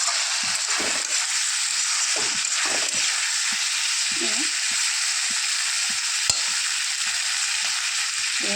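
Jackfruit masala curry bubbles and sizzles steadily in a pan, a loud continuous frying hiss with occasional soft stirring bumps, no voices.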